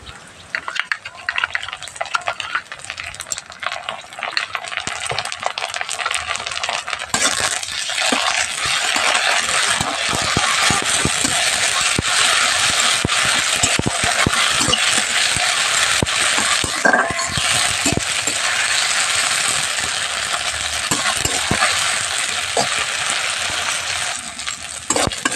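Onions frying with ginger-garlic paste in a pan, a steady loud sizzle with scraping and clinking of a spoon stirring throughout, growing fuller after the first few seconds, with no talking.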